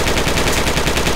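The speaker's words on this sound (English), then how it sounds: "now you're getting shot at" Heavy automatic gunfire in the Project Reality war game on the Kokan map, Afghan insurgency setting, a dense, continuous rattle of loud bursts filling the whole moment with no pauses.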